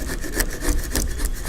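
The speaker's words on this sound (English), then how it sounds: "take one of your chisel sticks and remove the old sealant" Chisel stick scraping old windshield sealant off a 1973-1987 Chevy or GMC truck, a continuous close, rough rasping scrape with uneven strokes and no talk.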